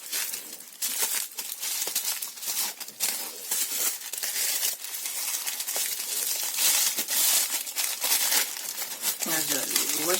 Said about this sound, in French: Le washi se déchire.